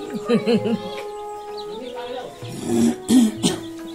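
Village chickens and roosters kept in Anganewadi cluck in short, close bursts, with a few louder squawks toward the end.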